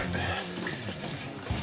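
Water moving through sediment in a saran-wrapped container, a continuous close watery rush and gurgle at moderate loudness.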